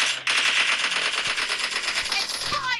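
Rapid automatic gunfire from a PUBG team deathmatch round, dense continuous bursts filling the whole stretch with a few sharper cracks near the end, loud and close with no talk over it.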